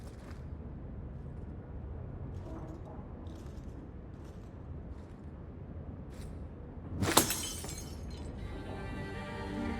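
Glass shattering in the video game Dragon Age 2, a single loud, bright crash near the seven-second mark that stands out over a low, steady game ambience, with a brief tinkling tail afterward.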